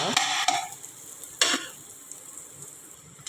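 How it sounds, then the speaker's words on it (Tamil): Egg rice sautés in a pan, a steady soft sizzle with a few sharp scraping stirs of a spoon against the metal, loudest near the start and fading slightly. "நம்ம வதக்கியாச்சு அடுத்து நம்ம ரைஸ் சேர்க்குறோம்"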